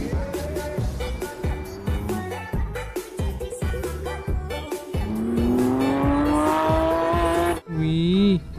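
A toy Lamborghini car making a loud electronic engine sound: choppy rhythmic revving bursts that swell into a long rising tone like acceleration, ending with a short squeal.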